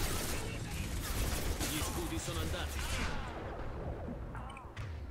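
A cryo weapon fires at enemies in the video game Mass Effect 2, its dense battle noise filling the scene continuously among other combat sounds, with a voice talking over it.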